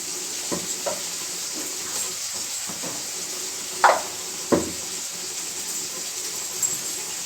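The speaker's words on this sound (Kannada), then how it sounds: "ಸೊ ಇದು ಚೆನ್ನಾಗಿ ನಾವು ಎಣ್ಣೆಲೇ ಫ್ರೈ ಮಾಡ್ಕೋಬೇಕು" Masala for chicken biryani fries in oil with a steady soft hiss and sizzle, broken by a few brief spoon scrapes and clinks against the pot.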